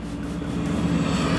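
A radio-controlled F-16 jet with a 70mm electric ducted fan makes a high-speed pass, its loud, steady rushing whine filling the air without a break.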